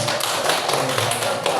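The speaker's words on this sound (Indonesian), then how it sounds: "Tepuk tangan." Classroom group clapping hands during a class session, a quick dense patter of many claps, steady and fairly close, with no speech over it.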